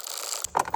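A ratcheting gear wrench works on heater lines under a 7.3L Powerstroke Ford Excursion, a brief mechanical whir followed by a few quick ratchet clicks at close range.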